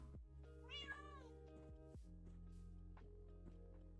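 Black cat in Minecraft gives one clear, near meow over soft lofi music with a steady low hum, followed by light clicks and game sounds.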